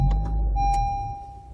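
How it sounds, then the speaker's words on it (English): A 2014 Honda Civic Si engine starting by push button, a short cranking burst settling into a low steady idle close by, with a sustained electronic chime tone running through it. "And the car starts right up."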